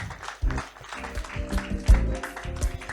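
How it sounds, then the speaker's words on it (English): Audience applause at a startup pitch day event, a burst of scattered clapping that swells and fades over a few seconds, fairly close and loud. "A round of applause for Jowato once again."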